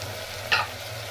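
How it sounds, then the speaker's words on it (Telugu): Two spoons of ginger garlic paste hit a hot pan for a chicken fry piece pulao, giving one brief sizzling hiss over a steady low stove hum, with no talk. "ఇది బాగా వేగాక ఇందులో ఒక 2 స్పూన్స్ అల్లం వెల్లుల్లి పేస్ట్ వేసుకుంటున్నా"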